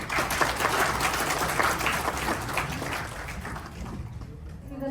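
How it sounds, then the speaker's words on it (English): An audience at a formal event moderated for company secretaries applauds, with sustained dense clapping from a sizeable crowd that continues for several seconds and gradually thins toward the end. "Please a big round of applause."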